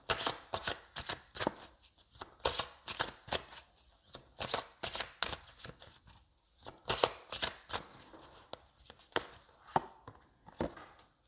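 Oracle cards being shuffled by hand in quick riffling bursts, a steady rhythm of crisp papery flutters with brief pauses, close and fairly quiet with no voices.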